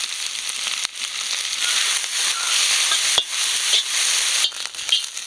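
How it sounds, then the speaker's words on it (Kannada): Onions fry in a pan with curry leaves and poppy seeds for Mangalore chicken sukka, a steady close sizzle broken by sharp scraping stirs and clicks of a utensil, with no one talking. "ಈರುಳ್ಳಿ ಎಲ್ಲ ಚೆನ್ನಾಗಿ ಫ್ರೈ ಆಗೈತೆ"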